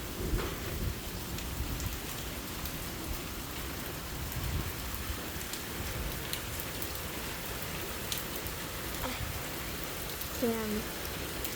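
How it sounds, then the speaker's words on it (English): Heavy rain pours steadily during a spell of bad weather outdoors, a dense, even hiss lasting throughout, with a few brief voices over it near the end. "And it's really raining."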